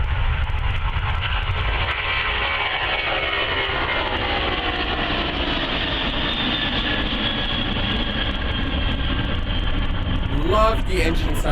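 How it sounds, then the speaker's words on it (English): A Boeing 747's Rolls-Royce RB211 jet engines roar loud and close at Prestwick Airport, a continuous broadband rush with a steady whine. A brief click-like burst comes near the end. "Love the engine sound there."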